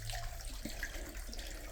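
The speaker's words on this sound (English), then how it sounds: "There's some water seeping in from the side." Water seeping in from the side of an old hard-rock mine tunnel with timber boards and strap rail, near a creek, makes a steady, faint trickling wash that runs evenly throughout with no voices.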